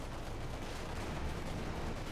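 Tank cannon fire in a Company of Heroes 2 battle involving a KV-1 and a Panzer IV, heard as a dense, loud, continuous wall of booming battle noise with no clearly separated single shots.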